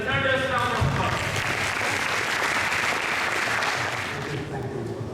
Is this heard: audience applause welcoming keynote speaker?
yes